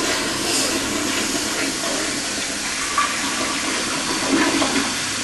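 A toilet, adjusted to a lower water-saving fill setting, flushes in a steady rushing wash of water that holds at an even, fairly loud level throughout, with no talking.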